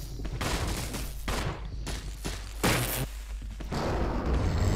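A burst of repeated gunshots from a handgun in the Resident Evil Remake video game, fired at an enemy: several loud sharp reports in quick irregular succession, with no talking.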